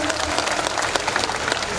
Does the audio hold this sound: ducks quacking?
no